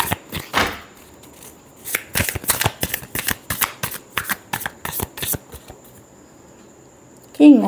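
Tarot cards are shuffled close up in a quick series of crisp riffling bursts, each one a papery flutter, with a brief pause before a voice speaks at the very end.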